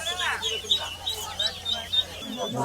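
High-pitched peeping of many chicken and duck chicks at a busy market in Jinjira, Dhaka, close and repeated, over a busy background with people talking nearby.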